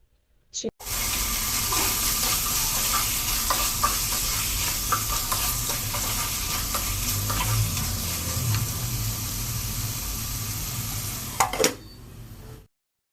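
Ginger-garlic paste frying in a pan for chicken curry, with steady loud sizzling and occasional scrapes of stirring for about eleven seconds before it stops abruptly.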